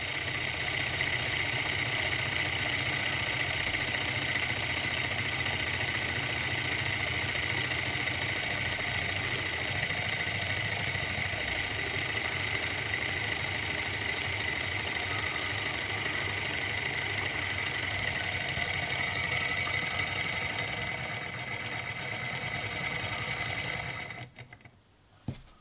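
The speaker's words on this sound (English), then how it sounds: "They're bloody wicked, those Stirling engines." A small model Stirling engine runs steadily, a close, even mechanical whirring hum with a fast rhythmic tick that slows and fades near the end, then stops.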